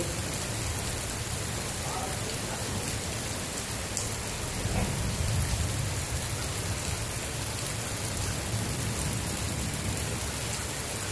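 Heavy rain pours steadily onto surfaces at a flooded holiday complex on a first night, a dense continuous roar with a low thunder rumble swelling midway.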